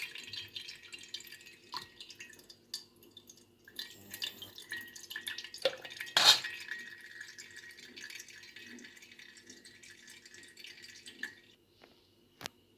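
Grape juice strained from its pulp drips in faint, irregular patters and small splashes over about thirteen seconds, with one sharper clink partway through.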